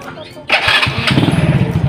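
Honda Astrea Legenda motorcycle engine starting up with a sudden loud catch, then settling into a steady, close idle with a quick rhythmic putter.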